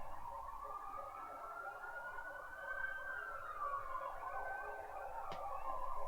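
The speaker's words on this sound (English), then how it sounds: "Sounds like an army of ambulances." Several ambulance sirens wail together in the distance, their overlapping rising and falling tones sustained at moderate volume, with no talk over them.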